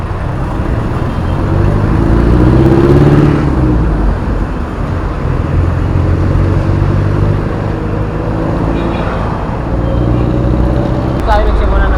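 Heavy Monday-morning traffic on EDSA in Quezon City heard from a bicycle, with a constant loud roar of engines and passing vehicles and a horn near the end, while someone talks over it.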